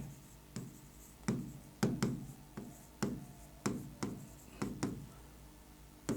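A pen writing on paper, close and quiet, with a series of short, regular scratching strokes about every half second and soft rubbing between them.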